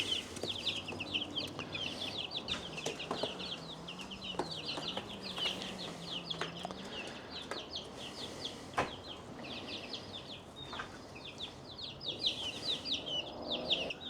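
Young farm chicks chirp in rapid, high-pitched bursts that repeat steadily, with occasional clucks and a faint background hum running beneath them.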